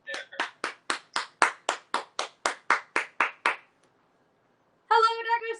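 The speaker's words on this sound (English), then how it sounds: "I still hear them clapping out there." About fourteen evenly spaced hand claps, loud and close, ending in a pause before a brief voice.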